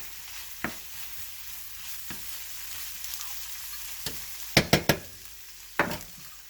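Fresh garlic sizzles softly in a pan, a low steady frying hiss broken by several sharp scrapes and clacks of a utensil stirring, clustered near the end, with no talking.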